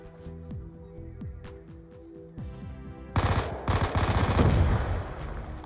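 Gunfire in Call of Duty Black Ops II, rapid automatic bursts that turn into a dense, loud barrage of shots and explosions midway through.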